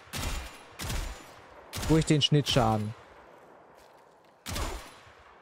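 Short bursts of Warframe gunfire from a Gotva Prime rifle crack out in quick clusters with pauses between, sharp and close, and a voice speaks briefly amid them.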